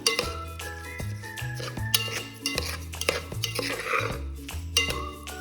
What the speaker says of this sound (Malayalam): ഇനി നമുക്കിതെല്ലാം കൂടി ഒന്ന് മിക്സ് ചെയ്ത് കൊടുക്കാം.